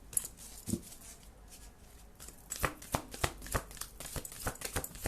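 Tarot cards shuffled and drawn by hand, a run of quick papery riffles and slaps close up, growing busier and more rhythmic toward the end.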